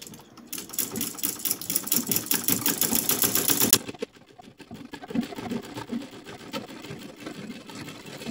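A sewing machine stitches very light dress fabric in a fast, steady run of needle strokes for several seconds, then stops, leaving quieter handling noise behind it.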